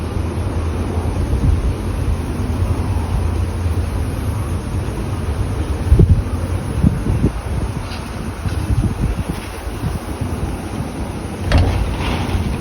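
Strong, gusty typhoon wind in Batangas, Philippines, roars continuously, buffeting the microphone with low rumbling, and occasional louder gusts and thumps stand out.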